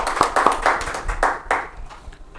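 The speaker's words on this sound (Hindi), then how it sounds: "एक बार जोरदार तालियां हो जाएंगे लोग।" Several sharp hand claps from a small audience at a community event, loud and close, fading after a few seconds.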